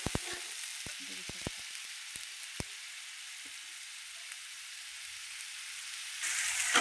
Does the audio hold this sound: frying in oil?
yes